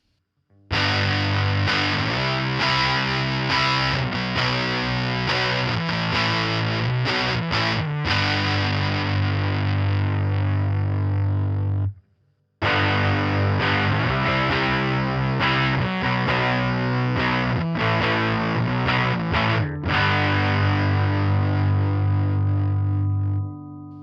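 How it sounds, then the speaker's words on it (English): An electric guitar through a RAT distortion pedal circuit with LEDs as clipping diodes plays two sustained, heavily distorted riffs of about eleven seconds each, separated by a brief pause. Chords ring loud and saturated with no voices. "I can replace the silicone diodes in this rat circuit with LEDs, which typically have higher forward voltages."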